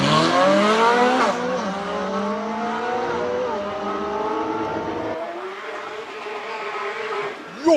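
A Ferrari 458 Speciale race car accelerates hard at the Speed Classic Cape Town hill climb, its high-pitched engine climbing through several upshifts before fading with distance.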